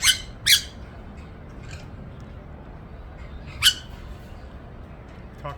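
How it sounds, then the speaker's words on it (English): A rescued rare parrot lets out sharp, loud squawks, two quick calls close together, then a single squawk after a pause, with a faint call near the end over low background noise. "What a beautiful bird."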